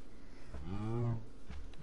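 A single cow lets out one fairly faint, low, drawn-out moo of about a second, rising and falling against quiet outdoor background noise.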